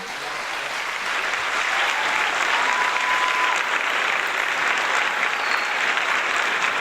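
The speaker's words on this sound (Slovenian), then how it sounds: "Dajmo en aplavz za našega župana." A festival audience at Festival Kamrica 2018 applauds their mayor, a loud, sustained, even roar of many hands clapping throughout, with no break.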